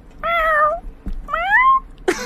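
A person imitates a cat meowing, giving two drawn-out, wavering meows close to the microphone with a short pause between them, followed by a brief burst of noise at the end.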